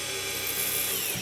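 A power drill bores a hole for a Zdrive coupling, a brief continuous high whine with grinding, loud and close throughout.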